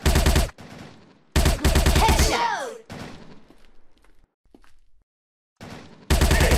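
Gunfire from a SWAT counter-terrorist shooting video game, loud bursts of rapid shots with short gaps, some whooshing game effects and brief quiet stretches between volleys.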